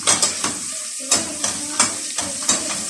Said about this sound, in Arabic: التبل في الزيت هنزل عليهم بقى، والثوم احمرت اهي